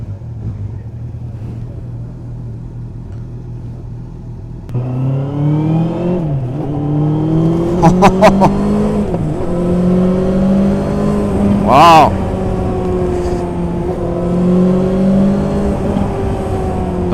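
A 2021 Honda CB650R motorcycle on a race track: a steady engine idle swells into revving with rising and falling pitch and a sharp rev spike, close and loud, with a brief spoken exclamation.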